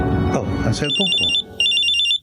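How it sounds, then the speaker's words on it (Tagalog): A mobile phone starts ringing in a dramatized Filipino horror story, its repeating electronic tone sounding in two close bursts right after an excited voice shouts. "Oh, ang cellphone ko."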